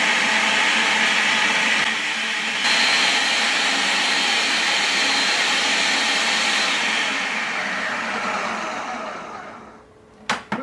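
A Homtone food processor motor whirs loud and steady for about nine seconds, winds down to silence, then a couple of sharp clicks follow.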